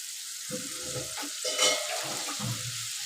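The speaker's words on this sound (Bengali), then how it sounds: "এবার আমি জলটা দিয়ে দিলাম" Water poured into a pan of frying parshe fish for a spicy curry brings a soft hiss and bubbling sizzle, with a few stirring sounds; close and fairly quiet, with no talking.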